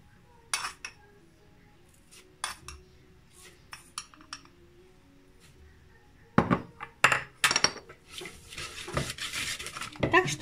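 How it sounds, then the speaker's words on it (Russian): Egg and sugar whisked in a bowl for pancake batter, scattered sharp clinks and scraping strokes of utensil against dish, sparse at first, then denser and louder toward the end, with no talking. "Сначала взбиваем яйцо с сахаром."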